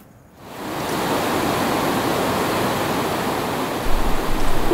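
River flowing near Lemur's Park in Antananarivo, a steady broadband rush of water that swells in after a brief quiet start and holds loud and constant.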